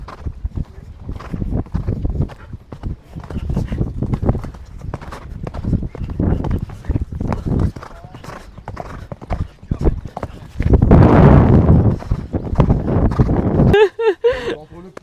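A horse's hooves clip-clop steadily toward a show jump during a jumping lesson at an equestrian centre. The footfalls are rhythmic and fairly close, with an instructor talking over them and wind buffeting the microphone.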